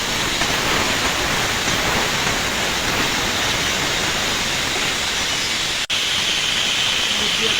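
A vegetable mixture hits hot oil with panch phoron five-spice in a pan, setting off a steady, loud, hissing sizzle that carries on evenly throughout.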